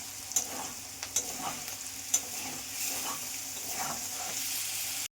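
Water goes into a hot pan of Bengali poppy seed (posto) dish, with a few sharp clinks of stirring early on, then a steady spitting sizzle that settles into an even hiss until it cuts off.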